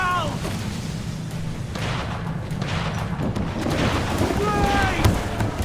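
Enemy ship cannons fire in a naval battle in Assassin's Creed 4: Black Flag, heard as rumbling booms over a dense wash of sea, wind and shouting crew. Voices run throughout.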